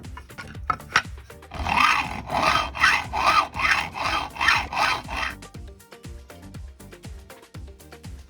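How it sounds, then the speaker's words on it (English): Hand sawing into 3/4 inch angle aluminum to cut a groove, heard up close as a steady series of rhythmic rasping back-and-forth strokes, preceded and followed by scattered clicks and handling taps. "First I cut both faces to start a groove and follow it down the center"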